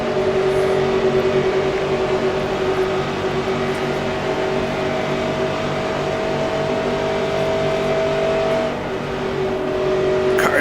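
Engines of stock cars in a NASCAR Grand National racing video game set at the 1966 Daytona 500 drone loudly and steadily, a continuous high-pitched whine that holds throughout with slight shifts in pitch.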